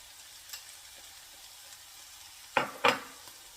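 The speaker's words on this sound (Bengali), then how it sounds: "তেলের মধ্যে কিছুক্ষণ আমি রসুনটাকে একটু ভেজে নিব।" Garlic sizzles gently in oil with a spoonful of butter in a pan, a soft steady crackle punctuated by two sharper spattering bursts near the end.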